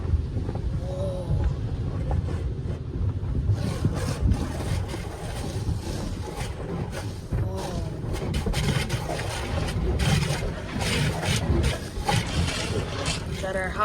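An automatic car wash in Landover, Maryland sprays hot wax and rinse, a continuous hissing, rushing water spray with machinery rumble, fluctuating in intensity throughout.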